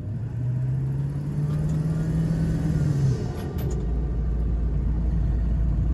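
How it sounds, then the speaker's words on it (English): A 7.3 Powerstroke diesel truck drives with a new air filter, its turbo whistling and rising in pitch over a steady engine rumble, then dropping away as the truck settles to a lower, constant drone. "you can hear the turbo much more"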